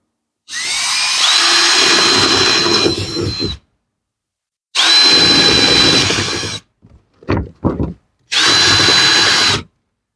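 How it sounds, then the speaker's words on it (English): A power drill boring holes into cement backer board during tile prep, three loud whining bursts of several seconds each with a few short spurts in between, close by and without talk. "Going to drill some holes in the corners."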